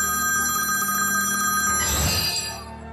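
A mobile phone rings loudly and close by, with a bright, tonal electronic ring that holds steady, swells briefly, then cuts off near the end.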